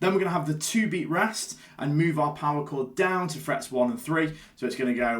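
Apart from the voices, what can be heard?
None of the usual background noises is heard.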